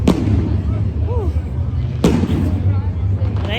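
Fireworks and firecrackers go off outdoors at a Falcons rally in Atlanta, two sharp loud bursts with crackling tails standing out over steady crowd noise and a bed of background music.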